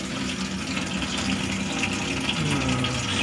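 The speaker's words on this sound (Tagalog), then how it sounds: "So may tubig naman siya, yung lababo niya." Steady, continuous rush of water running from a sink faucet in a house, filling the whole stretch at a constant level with no talking over it.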